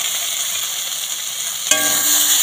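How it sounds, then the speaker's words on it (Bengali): Ghee sizzles steadily in a pan, then boiled chana dal drops in with a sudden splash and the frying hiss carries on loud and close, with no voices. "এর মধ্যে দিয়ে দেবো সেদ্ধ করে রাখা ডাল"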